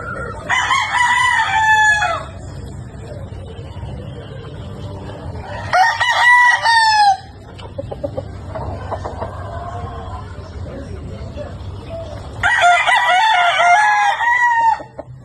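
Yellow Lego Dutch rooster, a brood stag candidate, crows loudly three times at close range, each crow about one to two seconds long, with a softer clucking in between over a quiet farmyard background.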